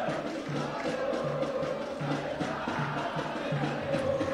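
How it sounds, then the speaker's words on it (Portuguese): Unidos do Picerno supporters chanting and cheering steadily at a Copa Metropolitana 2019 football final, a dense crowd roar that carries on without pause, with a rhythmic drum beat underneath. "Torcida do Unidos não para, incentivando a todo tempo, a todo momento, a sua equipe"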